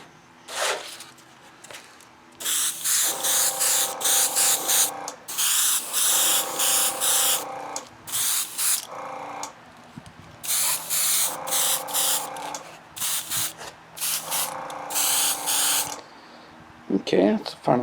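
An aerosol can sprays paint onto the spoiler of a Jo-Han 1970 AMC Javelin Trans Am model car in a series of loud, close hissing bursts, each lasting a second or two with short pauses between them.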